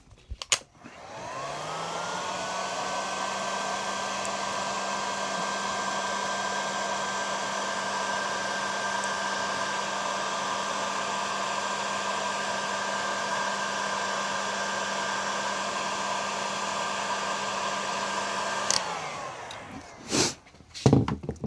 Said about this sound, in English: So the heat gun is really good about making wire malleable